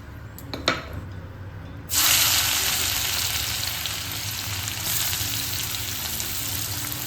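Vegetables, onion first, hit a hot wok (kadai) with cashews already frying, and a loud, steady sizzle bursts in after a couple of quiet seconds, then holds close and even throughout.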